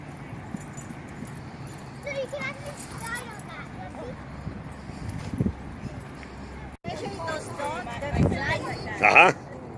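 Dogs in a dog pen bark and yip in bursts against a busy, noisy background with children running about, a few louder sharp yelps near the end.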